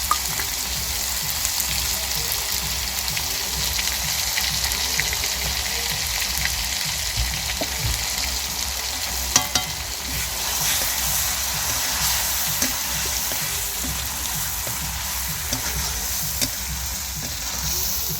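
Ground dry chilli and cumin paste fries in oil for a home-style duck curry, a continuous crackling sizzle close by with occasional stirring knocks and scrapes, steady throughout and without voices.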